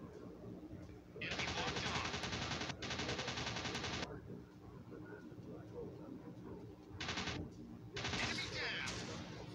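Bursts of rapid machine gun fire from a Wildcat fighter in a dogfight video game, with long rattling volleys early on and shorter bursts near the end, while a person talks over the action.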